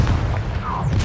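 A single loud, low boom from the Confringo blast spell in Hogwarts Legacy, with a brief bright whoosh trailing through it, heard close and alone.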